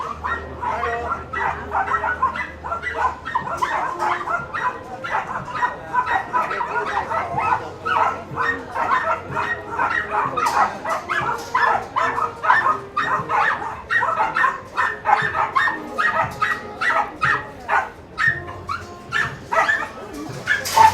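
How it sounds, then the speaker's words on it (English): Many small ratting dogs yap and bark excitedly in a dense, continuous chorus at an outdoor Mallorca market, with sharp overlapping yips throughout and a faint rooster-like call and crowd murmur beneath. "Dogs here are very excited."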